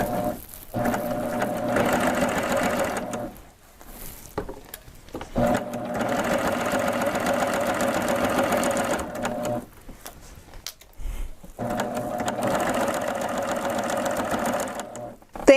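Babylock sewing machine stitching a seam, a rapid mechanical whir running in several bursts separated by short pauses, close and moderately loud.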